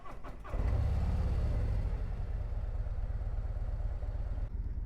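A Harley-Davidson Road Glide motorcycle engine cranks briefly, catches and settles into a loud, steady, low rumbling idle close by.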